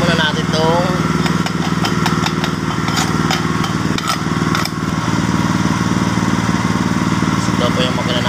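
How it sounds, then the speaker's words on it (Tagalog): An Italian-made MOSA 150-amp welding generator engine runs steadily up close, a loud, even, rattling drone throughout, with someone speaking over it. "ito po yung makina natin, genset generator po na Mosa"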